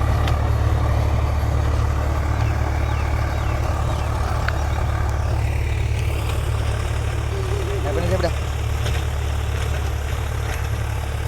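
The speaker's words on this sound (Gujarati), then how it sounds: "કેવું ચાલે ટ્રેક્ટર?" A Swaraj 735 FE tractor engine runs in a farm field, giving a loud, steady low drone that holds evenly from start to finish.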